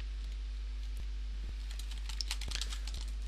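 Computer keyboard typing while entering program code, a few soft, evenly spaced key clicks over a low steady background hum.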